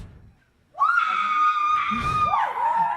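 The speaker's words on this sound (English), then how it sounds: "You screamed loud enough." A concert crowd in Edmonton screams loudly and continuously, a sustained high-pitched roar of many voices that starts abruptly and holds steady, swelling again near the end.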